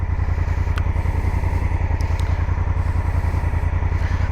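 A lowered Honda Africa Twin DCT motorcycle idles close by, its engine thumping in a steady, even pulse with a few faint metallic clicks above it.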